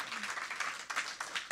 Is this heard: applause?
yes